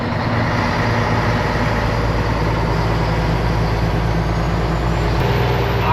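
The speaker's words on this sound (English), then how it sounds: "here's a loaded silage truck in front of me" A loaded silage truck driving ahead on a scenic road, heard as a steady, loud, droning engine rumble with no breaks.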